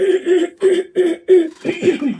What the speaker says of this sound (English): Let me clear my throat one more time.